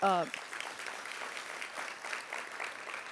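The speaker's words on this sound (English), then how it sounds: "Give him another round of applause." Conference audience applause for a speaker at a state conference, a brief voice at the start giving way to a steady, moderately distant wash of clapping from a seated crowd.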